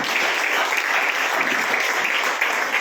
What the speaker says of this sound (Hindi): आप लोग खड़े होकर प्लीज जोर से तालियां बजाइए।